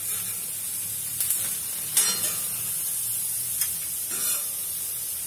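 Tomatoes, garlic and onion roasting on a griddle for pasilla chile salsa, giving a soft steady sizzle and hiss with a few faint stirring or turning sounds.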